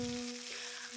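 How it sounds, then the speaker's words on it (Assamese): Cherry tomatoes fry in oil in a pan, giving a close, steady sizzle with soft crackles and a brief scrape of stirring, plus a faint high hum running underneath. "আৰু এইকেইটা অকণমান কোমল হোৱালৈকে ভাজি থাকিম, লৰাই থাকিম অলপ দেৰি।"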